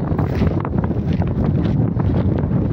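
Strong desert wind blowing outdoors during falcon hunting, buffeting hard and continuously against the microphone with gusty rumble throughout.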